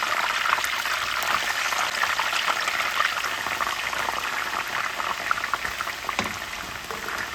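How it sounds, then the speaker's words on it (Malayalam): Sweet potato slices deep-fry in hot oil for chips, giving a loud, continuous bubbling sizzle that holds steady throughout with no talking. "ബാക്കി മധുരക്കിഴങ്ങ് സ്ലൈസ് ചെയ്തത് കൂടി നമുക്ക് വറക്കിട്ടെടുക്കാം"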